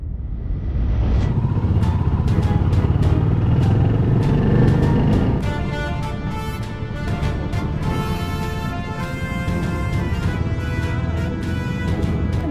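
A Royal Enfield motorcycle on a ride: a continuous low engine rumble with wind noise, loud and steady throughout, with a sustained tonal layer joining partway through.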